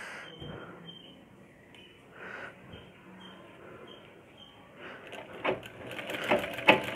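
Sewing machine stitching a folded blouse hem, a soft whirring run with light mechanical ticks, close and fairly quiet, growing busier toward the end.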